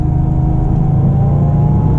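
A Porsche 997 Turbo Convertible accelerating hard sends out a loud, continuous low engine roar with a steady whirring tone, heard from inside the car with no talk.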